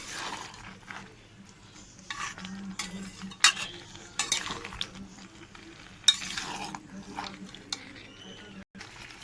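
Jackfruit curry is stirred in a pan with a spoon, producing repeated scraping swishes over a low sizzle, with a faint steady hum underneath and occasional clinks.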